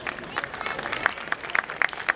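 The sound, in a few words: audience applause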